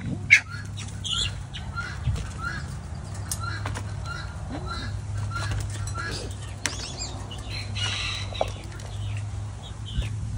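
Quail and other birds chirp and squawk in scattered calls while wings flap in short bursts, with a low hum underneath.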